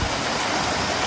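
Clear mountain stream at the headwaters of the Sardu, its water flowing in a steady, close, full rushing wash with no pauses.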